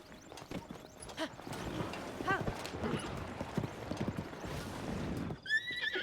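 A horse clip-clops along a path in Zelda: Tears of the Kingdom, hooves beating in an uneven rhythm up close, with a whinny and other game sounds mixed in and some faint talk over it.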